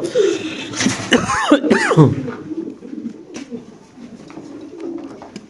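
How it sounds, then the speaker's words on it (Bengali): Indonesian Maltese pigeons give a few soft coos and throaty calls near the start, close by, under a voice talking, then fade into quieter background rustle. "এটা মাদি? হ্যাঁ ইন্দোনেশিয়ান মাল্টেস কবুতর ভাই"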